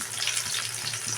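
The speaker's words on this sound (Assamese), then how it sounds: "সেইটো কাৰণে অকণমান ফ্ৰাই কৰি লৈছোঁ" Fish sizzling in hot oil in a pan, a steady dense hiss of frying that runs continuously through the short stretch with no voices.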